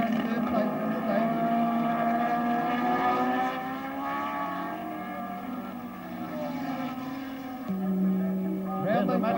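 Several 1968 Tasman Series racing cars at the Surfers Paradise 100, among them 2.5-litre four-cylinder Repco Brabham machinery, roar past as a sustained, droning engine note rising and shifting in pitch, loud and steady over roughly nine seconds.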